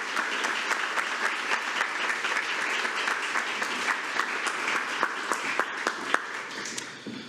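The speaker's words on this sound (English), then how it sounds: "Let's give the district champs a round of applause." Applause at a school district board meeting for the district champions, a room of hands clapping steadily and fairly close, with distinct individual claps standing out from the crowd over about seven seconds.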